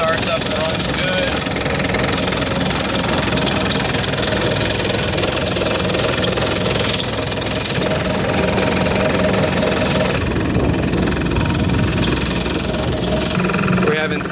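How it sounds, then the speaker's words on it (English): A Hitachi EX160LC-5 excavator's diesel engine runs at a steady, loud, knocking idle close by, with a person talking over it throughout. "The engine starts up and runs good."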